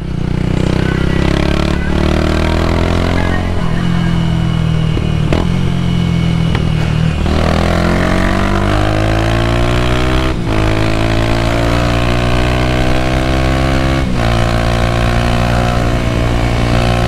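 A motorcycle engine runs loud and close on the highway, revving continuously with rising and falling pitch as it climbs and holds speed. The roar never drops out, and a few sharp clicks punctuate it.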